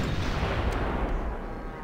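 Artillery attack in the strategy game Civilization V, a single heavy booming blast with a rumbling low-end tail that fades over about two seconds.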